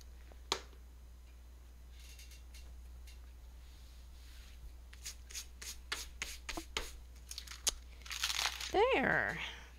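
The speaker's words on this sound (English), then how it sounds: "let me get all this excess glue off" Dry, scratchy rubbing as excess glue-stick glue is worked off striped paper scraps in a bargello-style paper craft, with irregular crinkles and taps that build into a louder, busier scrubbing toward the end, close and fairly quiet.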